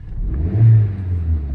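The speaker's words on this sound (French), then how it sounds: "Vous voyez, là le moteur il est en route." A car engine idling and revving, a low steady rumble that swells briefly in the middle, close and loud, with no talk.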